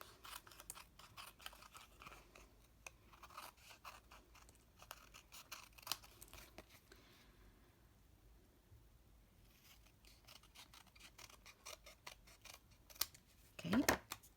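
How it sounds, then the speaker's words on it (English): Scissors snip excess patterned designer paper off the back of a starburst card, many soft close cuts in a steady rhythm under quiet talk, ending in a louder final snip. "Then you flip it over and cut off the excess"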